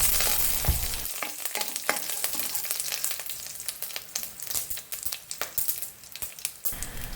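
Mustard seeds spluttering in hot oil with curry leaves and chilli added, a dense, continuous crackle and sizzle with quick pops scattered throughout, close up in a home kitchen while making a curry-leaf snack.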